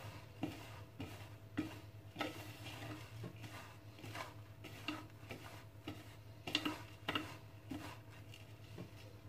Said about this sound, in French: Donc je mélange bien mes fruits secs et mon sucre.